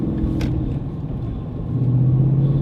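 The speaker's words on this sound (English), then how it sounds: "You get some gear noise, you get road noise, tire noise, but you do hear the engine noise a lot better." Ford Mustang Boss 302 engine droning steadily from inside the car while driving, mixed with road and tire rumble, rising in pitch and loudness near the end as it accelerates.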